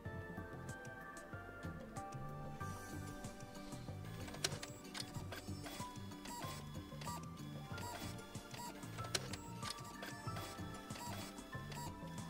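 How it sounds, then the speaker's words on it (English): An old inkjet printer in the Chaos;Child video game ticks and whirs continuously for about twelve seconds, its mechanism clicking at an irregular pace and steady moderate volume with no voices. "look at that ancient inkjet printer here"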